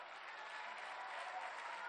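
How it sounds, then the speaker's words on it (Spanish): An audience at an outdoor park inauguration applauds military engineers, steady distant-sounding clapping holding evenly throughout at low level. "aquí también un aplauso para los ingenieros militares"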